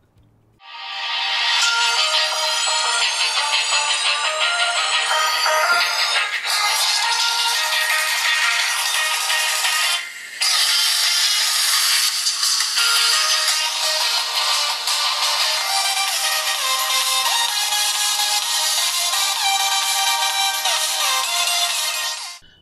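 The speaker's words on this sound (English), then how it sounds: "Now let's see how good the speaker is on this phone." A Tecno Camon I Twin phone plays music through its built-in loudspeaker, loud and steady for about twenty seconds with a thin, bright, tinny tone, briefly dipping near the middle, with no talking.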